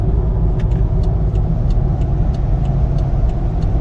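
BMW X3 35i M Sport engine pulling steadily at quarter throttle on a highway road trip, a smooth low rumble with road and cabin noise, constant and fairly loud from inside the car.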